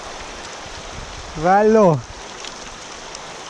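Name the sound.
flowing river water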